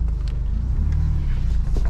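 A new Ford Bronco Outer Banks with a 2.7 V6 crawls off-road over rocks, giving a loud, close, steady low engine rumble with faint knocks and scrapes.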